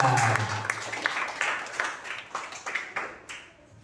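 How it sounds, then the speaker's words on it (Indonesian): Students in a classroom clap for a classmate, with loose, uneven rounds of claps in quick bursts that start strong and thin out toward the end. "Tepuk tangan buat Edgar."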